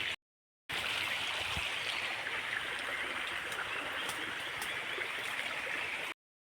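A shallow river stream running low on water, a continuous close rush and burble of flowing water that holds steady and even from start to finish, with short silent gaps at the very beginning and end.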